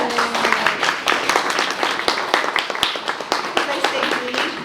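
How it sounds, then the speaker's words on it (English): A crowd at a community forum applauds with dense, continuous clapping throughout, close and lively, with no gaps. "can we give Stephanie a round of applause here"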